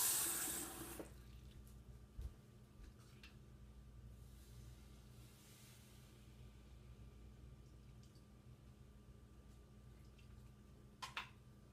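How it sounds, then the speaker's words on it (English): Water pours briefly into a bowl of rice flour at the start. Quiet room tone follows, broken by a few soft clinks. "To that, I will add half a cup of water."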